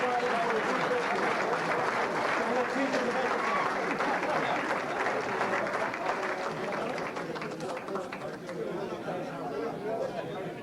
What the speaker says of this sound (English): Let's have them all a big round of applause.